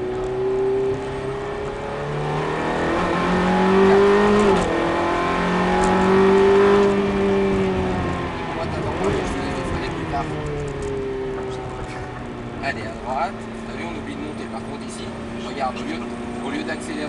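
Ferrari F430 pulling hard in third gear on a track, its engine note rising and falling through revs with a rasping howl, while someone talks over it from inside the car.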